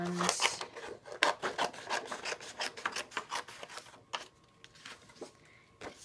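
A scrap sheet of cardstock is trimmed close by: a series of short, crisp scraping and cutting strokes in an irregular rhythm, fairly quiet with no talking.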